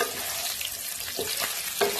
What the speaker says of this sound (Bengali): এবার এই তেলের মধ্যে প্রথমে ফুলকপিটাকে শ্যালো ফ্রাই করে নেব